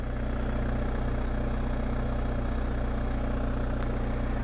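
A motorcycle engine idles while waiting at the front of a ferry queue, a steady low throbbing rumble held close and even throughout, no speech.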